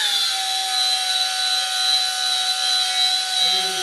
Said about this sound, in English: This is your Dyna-Braid Dynisher. Belt sander.